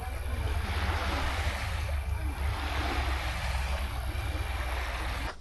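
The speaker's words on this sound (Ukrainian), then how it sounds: "а тут действительно такой шум прибоя" Surf rolling onto the shore of the Kyiv Sea, a steady broadband wash with heavy low rumble and wind buffeting the microphone throughout, loud and continuous.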